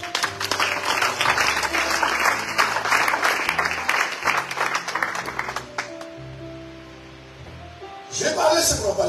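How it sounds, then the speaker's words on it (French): Church congregation applauding to acclaim the Lord: steady dense clapping filling the room for several seconds, fading toward the end before a fresh swell of crowd noise. "On acclame le Seigneur."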